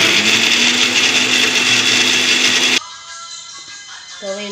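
Electric mixer grinder whirring roasted tamarind and salt for chutney, a loud steady roar for nearly three seconds that cuts off abruptly, followed by quieter clinks and a brief talking voice.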